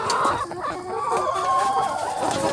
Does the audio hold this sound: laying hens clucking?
yes